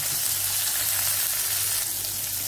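Onion, green chili and curry leaves frying in hot oil for a crab gravy, a loud, dense, continuous sizzle heard close up with no talking.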